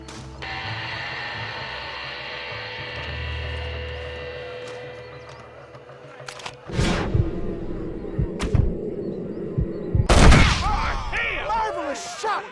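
Gunfire in a Red Dead Redemption shootout: a few sharp, loud shots ring out at irregular intervals over a low hum and soft tonal background, with the last burst the heaviest.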